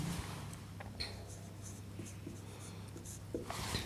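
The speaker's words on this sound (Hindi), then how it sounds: "यहाँ पर लिखेंगे हल।" Pen writing by hand on paper while a maths problem is worked out, with a steady close scratching of strokes running throughout under a constant low hum and no speech.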